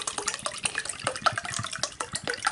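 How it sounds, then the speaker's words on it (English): Water is poured and stirred to mix MRE lemonade, making a busy close-up run of splashing and sloshing liquid with small clinks and trickles throughout. "I'm just going to make this lemonade and see how well it stirs up."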